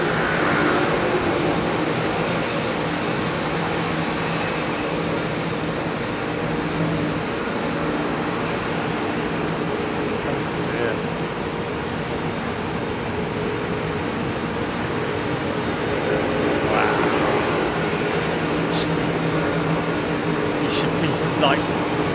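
A Boeing 787 jet airliner at Heathrow Airport gives off a continuous engine rumble and whine, with a person talking over it at times.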